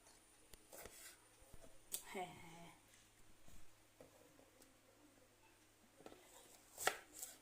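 Onions being cut in a home kitchen, a few sparse knife taps on a board, quiet and irregular with pauses between strikes.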